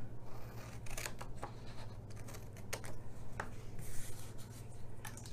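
Scissors snipping flaps off felt while making a poinsettia gift box, a run of close, scratchy cuts in an uneven rhythm against a low steady hum, with no one speaking.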